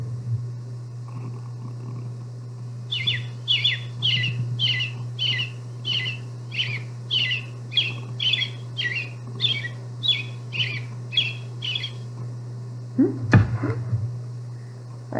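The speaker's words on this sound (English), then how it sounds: "the northern cardinal starts singing even earlier than the American robin" A northern cardinal in winter sings a long run of about fifteen evenly spaced, clear whistled notes at mid distance over a steady low hum, followed by a brief louder knock near the end.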